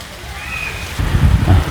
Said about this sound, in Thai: ตอนนี้ก็ฝนกำลังตกพี่น้อง